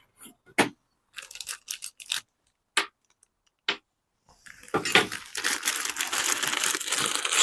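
Packaged mounting screws for a 120W solar panel handled up close: a scattered series of sharp clicks and small rattles, followed by a longer stretch of loud plastic-bag crinkling; no voices.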